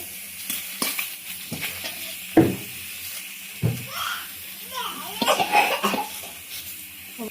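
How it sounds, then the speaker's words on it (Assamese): Ingredients are stirred and scraped around a dry wok, scattered scratchy knocks and faint crackling, fairly quiet, with a voice murmuring in the background. "এনেকৈ শুকান কেৰাহীখনতে বিনা তেল দি ফ্ৰাই কৰি ল'ব"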